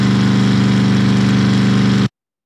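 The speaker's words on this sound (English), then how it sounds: "this is the car engine sound." A car engine idles with a steady low rumble and slight pulsing, then cuts off abruptly, leaving silence.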